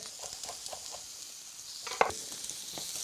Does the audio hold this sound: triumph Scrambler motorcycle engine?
no